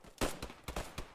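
Machine gun fire in the WWII shooter Post Scriptum, heard as several short sharp bursts spaced across a brief stretch, fairly distant and quiet, with no talking.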